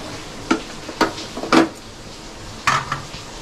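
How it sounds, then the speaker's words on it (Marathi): Cooked peanut and coconut modak dough is scraped from a pan onto a plate: four or five short, close metallic scrapes and clanks, irregularly spaced, with no talking. "आता आपण गॅस बंद करूया आणि आपण काढून घेऊया ताटामध्ये"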